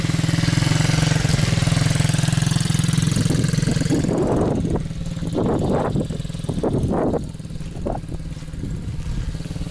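An MRF pit bike engine drones steadily, then revs in several throttle bursts as the rider runs a practice course, loud and close with no voices.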